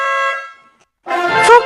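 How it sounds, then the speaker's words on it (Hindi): A car honks from behind on a street: a short, loud horn blast, a brief silence, then a second harsher burst. "तभी पीछे से एक कार आलिया को हॉर्न देती है।"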